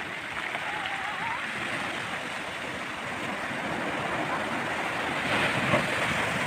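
Large waves at high tide roll onto a white-sand beach at Nusakambangan, Cilacap, a continuous loud broadband surf wash with wind buffeting the microphone.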